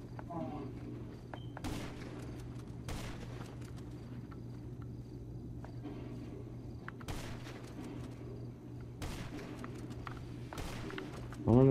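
Gunfire rings out in a GTA V Online match as scattered sharp shots and short bursts over a constant low engine-like hum, with several loud cracks spaced a few seconds apart and a person talking at times.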